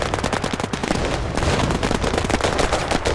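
Rapid machine gun bursts from the video game Battlerush 2, loud dense rattling volleys firing almost continuously with brief pauses, no voices present.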